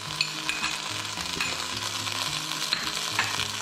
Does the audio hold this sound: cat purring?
no